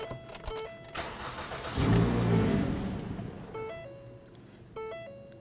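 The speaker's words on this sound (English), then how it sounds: "Let's go ahead and start the vehicle." A 2008-2011 Ford Focus engine cranking and catching, with a rising engine roar that settles into running, accompanied by repeated electronic warning chimes from the car, close up and with no talking.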